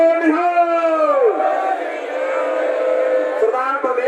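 A crowd at a farmers' rally in Dabwali shouts a Sikh slogan in unison in answer to the Bole So Nihal call, a strong, sustained chorus of voices holding the cry, with a fresh swell of shouting near the end.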